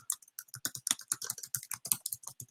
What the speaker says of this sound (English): So let me just type that up.